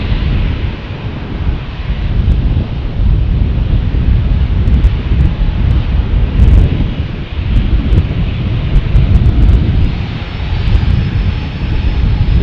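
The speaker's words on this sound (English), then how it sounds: "Airbus A321." An Airbus A321 airliner at San Diego airport roars loudly and continuously, a broad rumbling jet noise with buffeting wind across the microphone, no talking.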